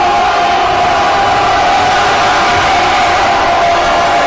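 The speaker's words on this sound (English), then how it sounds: "The crowd getting into it now." Home crowd at a high school boys' basketball region tournament game roaring and cheering, a loud, sustained wall of voices that doesn't let up.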